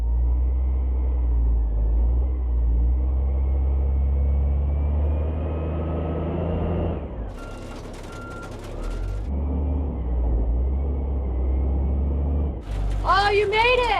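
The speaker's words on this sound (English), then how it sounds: "I'm gonna pull this truck forward and out of here." A truck parked by a freshly dug pond rumbles heavily as it pulls forward, its engine loud and close, with a hiss of air and people talking over it.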